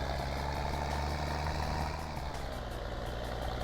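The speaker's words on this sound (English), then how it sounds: "It's so nice to drive this tractor." A tractor engine in Farming Simulator 19 drones steadily at close range, a continuous low rumbling hum with no talk over it.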